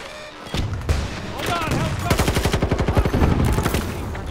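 Battlefield 2042 firefight: dense automatic gunfire crackles close in rapid bursts, a fast rhythmic rattle in the second half among scattered single shots and booms, with voices faintly underneath.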